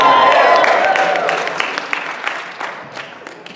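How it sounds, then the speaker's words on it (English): An audience applauds at a story slam event, with a burst of dense clapping that starts loud and gradually thins into scattered, sharper claps as it fades. "round of applause"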